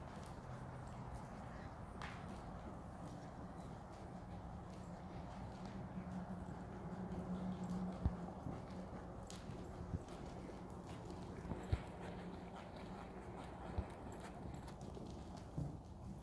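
A horse walking while being ponied beside another horse, giving faint, steady hoof clip-clops outdoors with occasional sharper hoof strikes, distant and soft against a low rumble of background noise.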